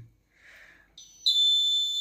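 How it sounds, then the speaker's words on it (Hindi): An electronic alarm goes off indoors. A soft tone comes first, then a loud, piercing, steady high beep starts and holds close to the microphone. There is no talking. "अरे यार अलार्म बज गया रुकिए एक मिनट"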